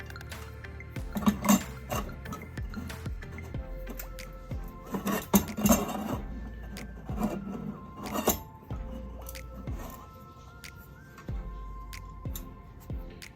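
Metal parts of an Ooni Fyra pizza oven clinking and clattering as they are slid and locked together, a series of close, irregular knocks and rattles with quiet pauses between them.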